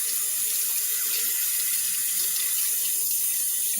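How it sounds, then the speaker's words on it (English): Hot water runs steadily from a kitchen tap into a sink, a constant close splashing rush that holds for several seconds without any talk. "I'm going to turn on the hot water."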